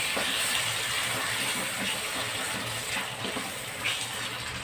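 Crispy-pork sauce for a spicy curry-paste stir-fry of water spinach hits a hot wok and sizzles, a steady dense hiss that runs without a break and carries no speech.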